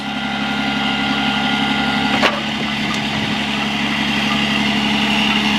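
Truck-mounted crane running on a 2008 Freightliner Business Class M2 106, a steady, loud engine idle hum throughout with a single sharp knock midway and a fainter tick shortly after.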